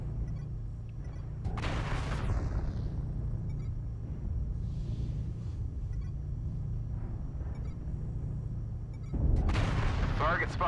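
Heavy missile fire slams into mechs in a combat game: a deep rumbling barrage with two sharp blasts, one early and one near the end, under a continuous low engine drone.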